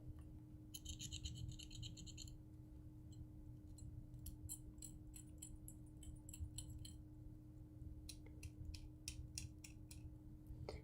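Insulation is scraped off copper wire in short, repeated rasping strokes, with scratchy bursts close by over a steady low hum.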